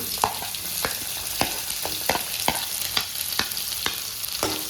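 Onions sizzle in a pan with garlic frying in oil, a steady close hiss broken by regular sharp scrapes and clacks of a spoon stirring against the pan, with no voices.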